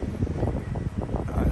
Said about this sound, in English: I hope you can hear me over the wind. It's getting pretty windy.